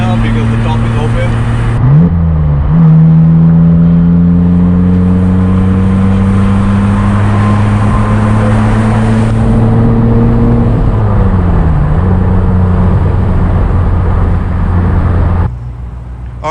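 A BMW Z3 3.0 convertible drives along with its top open, its engine droning and rising and falling in pitch through gear changes, with wind noise and a person talking over the car.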